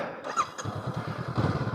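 A 2023 Honda CB500X motorcycle rides off-road over extreme terrain beside a beach, its engine pulsing in a quick, rhythmic beat that rises slightly toward the end of the short burst.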